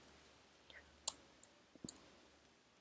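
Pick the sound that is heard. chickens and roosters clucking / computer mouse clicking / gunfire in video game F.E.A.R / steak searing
computer mouse clicking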